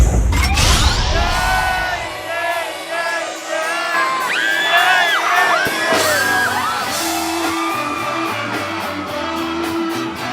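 A crowd at a budots dance show cheers, whoops and yells loudly and continuously over pounding music.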